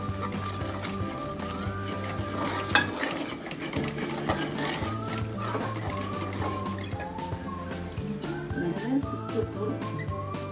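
Jaggery halwa stirred steadily in a pan, with continuous soft scraping and clinking of a spoon against metal over a low background hum, close and moderately loud throughout.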